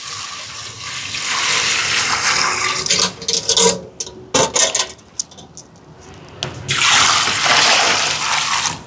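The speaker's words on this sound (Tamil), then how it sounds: "தண்ணி சேர்ப்போம்." Water poured from a vessel into a cooking pot of chicken biryani base with yogurt, a gushing splash that breaks into uneven spurts midway, then a final strong pour, close and alone.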